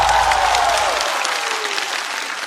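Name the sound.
audience applause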